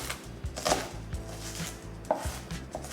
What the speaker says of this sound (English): So we have our little onions all diced up